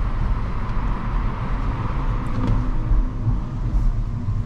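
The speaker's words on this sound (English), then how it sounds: "it's a sound generated for the pedestrians when you're going electric" A low, steady electric humming drone from a Renault Clio E-Tech Hybrid's pedestrian warning system plays inside the moving car, over continuous road rumble.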